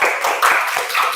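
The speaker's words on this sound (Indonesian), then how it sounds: "Aplaus untuk kelompok satu." An audience claps for group one in a classroom teaching assessment, a short, even patter of hand claps at a steady rhythm that carries on without a break.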